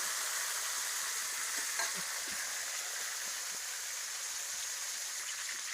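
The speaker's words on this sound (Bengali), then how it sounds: "সরিষার তেল ঢেলে দিলাম মাছ ভাজার লেগে, মাখা মাছ দিয়ে দিলাম" Tilapia fish sizzles in hot mustard oil with a steady, soft frying hiss and occasional faint crackles.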